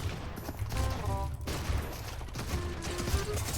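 Video game gunfire sprayed in a shooter, a dense, steady clatter of rapid shots blended into loud game sound and music, continuous across the whole stretch.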